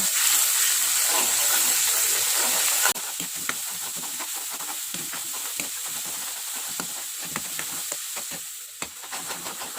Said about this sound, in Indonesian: ini kita tumis tentunya bumbunya matang. Kita aduk rata.